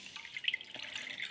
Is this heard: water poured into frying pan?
yes